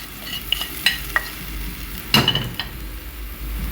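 Spices tipped into a hot pan for Egyptian fish rice (sayadeya), sizzling steadily with scattered clinks of a spoon against the pan and a louder burst of stirring midway.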